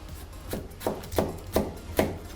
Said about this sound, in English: we're going to cut the base out of the tomato because we don't want the bottom in there